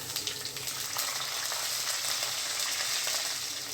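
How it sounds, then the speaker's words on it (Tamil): Chana dal and urad dal frying in hot oil in a pan, a dense, steady sizzle with fine crackles and popping close by, continuous and fairly loud. "சட்டியை வச்சு எண்ணெய் காஞ்சதும் கடலைப்பருப்பு,"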